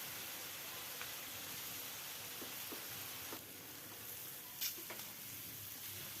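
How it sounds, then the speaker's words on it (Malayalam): Masala-coated paneer frying with capsicum and onion in a pan, a steady close sizzle with a few soft stirring knocks, alone without talk. "നമ്മൾ മസാല പുരട്ടി വെച്ച പനീർ ഇട്ട് കൊടുക്കാം"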